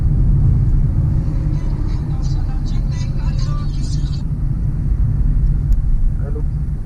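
Car engine droning steadily while driving a winding mountain ghat road near Shimla, a continuous low rumble close to the microphone with a person talking over it part of the time.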